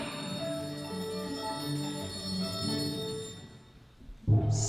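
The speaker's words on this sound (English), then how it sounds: "One by one, every bell in the house began to ring out and ring out loudly." Bells throughout a house ringing out, overlapping sustained chiming tones layered together and fading away, ending in a sudden low thump.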